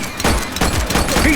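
Gunfire from a suspect in the police game The Precinct comes as a short burst of several sharp shots over a steady game-audio bed, with some voice-like sound mixed in.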